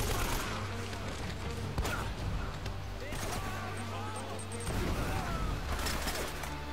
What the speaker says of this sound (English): I think that was a triple dynamite again.